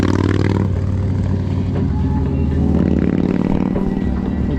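Loud motorcycles pass on a coastal road in Crimea between Novy Svet and Sudak. Engines roar close by, the sound swelling and shifting in pitch as the bikes go past over several seconds.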